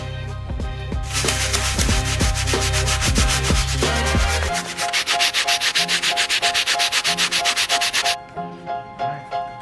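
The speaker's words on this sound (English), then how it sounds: "Now while I have the medium bristle brush, I'm gonna grab this shoe, put it to the side, grab the insole and give this insole a good scrub" A Brooks running shoe insole is scrubbed with a medium-bristle brush in quick, rhythmic back-and-forth strokes, loud and close, slowing to a few softer final strokes.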